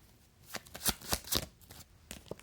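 Tarot cards are shuffled and drawn in several quick riffling bursts, close and fairly quiet, with no talking over them.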